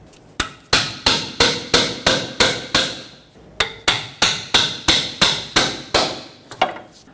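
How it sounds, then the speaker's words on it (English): Sharp metallic hammer blows strike a pry bar to punch off a single-use inner tie rod clamp on a 2006-2010 Hyundai Sonata, about fifteen evenly spaced hits with a brief pause midway, close and loud. "take a pry bar and a hammer, punch that off"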